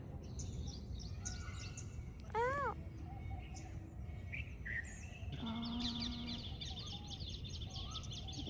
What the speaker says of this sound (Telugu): ఏం సౌండ్ అది? అది ఒక బర్డ్ సౌండ్ పికాక్.